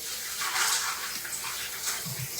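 Large shrimp get rinsed under a running kitchen tap, a steady close splashing hiss of water with small surges and a faint low thud near the end, no talk.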